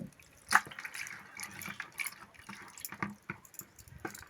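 Water poured over wheat grains that were soaked for three days for kurdai, giving quiet, irregular splashes and drips with one sharper splash early on.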